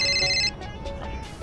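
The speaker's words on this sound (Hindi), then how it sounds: "एक मिनट फोन माड़ा आ गया" A mobile phone ringtone for an incoming call plays as a bright repeating electronic melody for about half a second, then cuts off, leaving room noise and faint movement.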